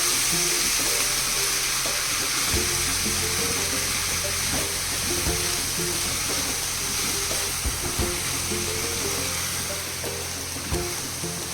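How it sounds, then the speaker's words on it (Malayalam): Cabbage and drumstick leaf thoran sizzles steadily in a pan while being stirred, a constant loud frying hiss with soft scraping and clatter from the spoon, close up and without speech. "നല്ലോണം ഇളക്കുക."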